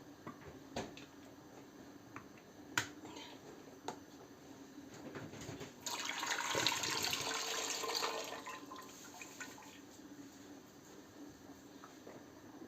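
Water drained from a pot of covered tomatoes while cooking courgettes with tomatoes in a home kitchen: a few light clinks, then a steady splashing pour for about two seconds, fading to drips and small knocks.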